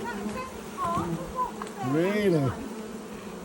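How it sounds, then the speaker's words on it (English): A large swarm of bees drones in a constant close buzz, with a person speaking briefly over it. "That's a lot of bees."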